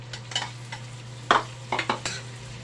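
Meat being sautéed in a pan for taro root in coconut milk, a soft sizzle under a low steady hum, broken by several distinct scraping stirs and utensil knocks close by, no voices.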